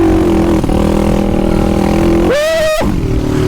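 A Chinese enduro motorcycle engine running at a steady, loud idle close by, then revving sharply once in a quick rising burst before dropping back to idle.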